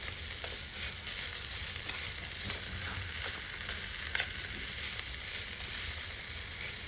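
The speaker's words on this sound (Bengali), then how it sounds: "এই তো ভাজিগুলো সুন্দরভাবে নাড়াচাড়া দিতেছি" Vegetables fry in a pan while being stirred, near cooking with coriander leaves. A soft, steady sizzle hisses throughout, broken by faint scraping stirs, all fairly quiet.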